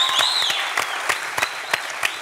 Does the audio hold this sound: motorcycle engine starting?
no